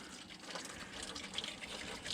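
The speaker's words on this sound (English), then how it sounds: "let's try to squirt some water in here" Steady hissing rush of plain water forced through a car's cooling system during a flush, a faint, continuous gush with no talk over it.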